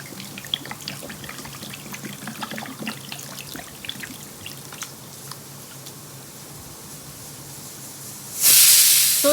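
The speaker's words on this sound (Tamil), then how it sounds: "அது முழுகிற அளவுக்கு தண்ணி ஊற்றணும்." Water poured into a pot over a mixed fish preparation for Andhra-style fish iguru, a soft trickling and hissing stream for several seconds, ending in a sudden loud burst of noise.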